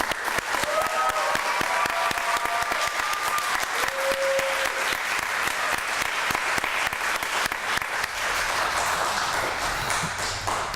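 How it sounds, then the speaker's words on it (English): Sustained applause from the audience at a U.S. Citizenship and Immigration Services naturalization ceremony, celebrating the new citizens: dense, steady clapping throughout, with a few faint tonal pings over it. "how about one more round of applause for all of our new citizens?"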